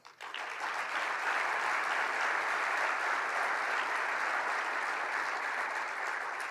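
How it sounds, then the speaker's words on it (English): A large audience at the 2013 State of the Port event applauds the Port of Long Beach tenants, with sustained, even clapping that holds steady for several seconds. "Please give me a round of applause for all of our Port of Long Beach tenants."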